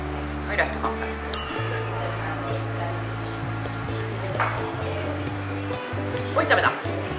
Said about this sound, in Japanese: はい、ラスト乾杯。